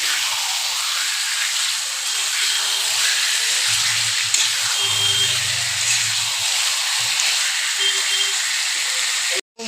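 Marinated chicken fries desi style in oil that has separated in a pan, giving a steady close hiss and sizzle with a brief low rumble partway through and a sudden cutoff at the end.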